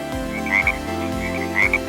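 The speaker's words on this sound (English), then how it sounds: "Flying tree frog." Flying tree frog croaking loud and close, a repeated throaty call with bright chirping notes, two bursts in quick succession.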